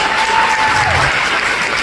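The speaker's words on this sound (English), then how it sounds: "So give her a round of applause." A round of applause for a designer at a marching band celebration, loud, dense and steady clapping from a close crowd with a faint tone running under it.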